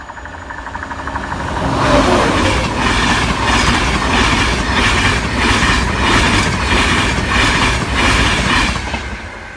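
A train rumbles past close by at Barnby Lane level crossing, a steady loud roar with rhythmic clickety-clack of wheels over rail joints, fading slightly at the end.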